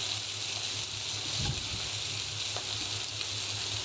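Fish sizzles and crackles on a hot tawa griddle, a dense, steady frying hiss that runs loud and unbroken throughout, with a faint clink of stirring midway.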